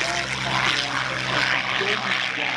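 A Curtiss P-40 Kittyhawk propeller fighter performs at the Oostwold airshow, its engine giving a loud, steady, rumbling drone that fills the whole stretch without a break.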